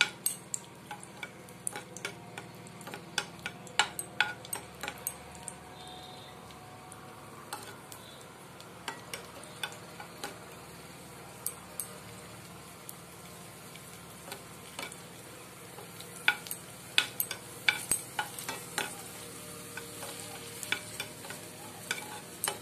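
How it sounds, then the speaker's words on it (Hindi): Raisins roasting in hot ghee in a pan, a steady soft sizzle under repeated light clicks and scrapes of a stirring spoon, close and alone with no talk. "घी गर्म हो जाने के बाद अब हम इसमें डाल देंगे किशमिश इसको हम थोड़ी देर के लिए इस तरह से भुनेंगे"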